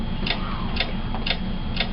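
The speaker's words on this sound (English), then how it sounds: "What is that mysterious ticking noise?" Mysterious ticking sounds in an even rhythm, four sharp ticks about half a second apart over a steady low hum, fairly close and clear with no talking.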